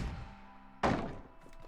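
A melon fired from a big cannon in a sandbox vehicle game, striking through a three-block-thick wall with a single sharp, heavy thunk that quickly fades.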